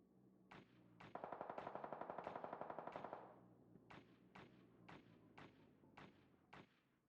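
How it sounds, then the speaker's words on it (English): Gunfire in the video game Ring of Elysium comes as a rapid automatic burst followed by a string of separate single shots at even spacing, sharp but somewhat distant, with no talk. "There's a lot of shooting going on."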